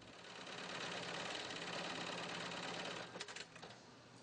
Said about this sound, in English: Workers use heavy-duty sewing machines to stitch Velcro and other materials to the BCD.